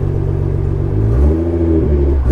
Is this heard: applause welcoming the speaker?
no